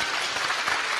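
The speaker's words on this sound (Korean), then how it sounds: "박수 치주세요" A brief burst of dense audience applause at a university lecture hall during a presidential candidate's campus talk, steady and fairly loud with no voices over it.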